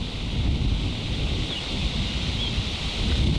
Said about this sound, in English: There's a lot of wind, Bernie.